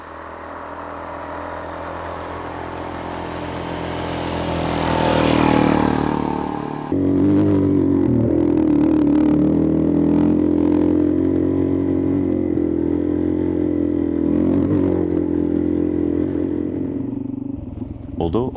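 A motorcycle on a shakedown ride before a solo adventure trip, with the engine revving up to a peak and then droning steadily amid wind rush and rattles, with a voice over it.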